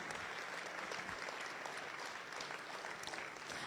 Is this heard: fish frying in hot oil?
no